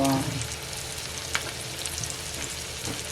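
Surmai fish frying in hot oil on a tawa, a steady close sizzle and crackle running throughout with a few brief louder pops, no talking.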